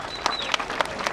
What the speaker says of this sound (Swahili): Pigia Jaguar makofi tafadhali.